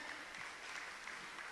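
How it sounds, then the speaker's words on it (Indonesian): An audience applauds the top five finalists at a crowning night in Banda Aceh, a brief, steady wash of distant clapping at low volume with no voices on top. "Tepuk tangannya dong buat yang tadi udah terpilih."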